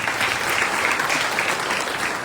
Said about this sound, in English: Give a big round of applause to me.